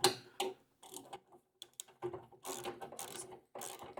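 Brass nut being tightened onto 1/2 inch hardware of a snowblower chute deflector actuator kit, giving irregular close metallic ratcheting clicks and scraping bursts across the whole span with no talk.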